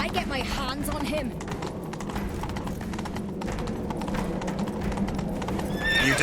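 A horse gallops and neighs in The Witcher 3 during a mounted chase, with fast, driving hoofbeats and loud whinnies at the start and end, heard under game dialogue.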